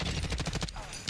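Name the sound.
gunfire in the video game Black Ops 6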